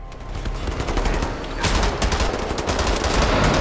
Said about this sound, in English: That's like an auto fire pistol.